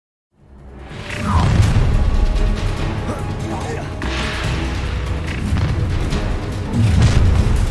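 Spell explosions from Bombarda and Confringo in Hogwarts Legacy, with loud booming blasts and whooshes rolling together continuously, while a voice shouts incantations over the bursts.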